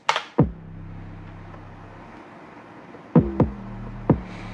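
A deep electronic beat: a punchy kick drum with a sustained low bass tone that dips and pumps after each hit from sidechain compression, several hits with a pause between.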